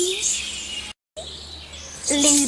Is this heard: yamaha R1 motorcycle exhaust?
no